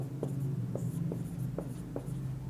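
Handwriting during a lecture on Indian constitutional polity: close, scratchy pen strokes in short regular bursts, roughly one every half-second, over a quiet room.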